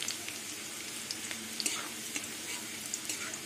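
Garlic frying in oil for a greens-style dish gives a soft, steady sizzle with faint crackles and a few light clinks, close and quiet, with nobody talking.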